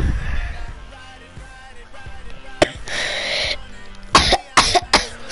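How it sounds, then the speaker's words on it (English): Several harsh coughs close to the microphone, first an isolated one and then a rapid cluster of bursts near the end, over a low background. "Sorry about the coughing."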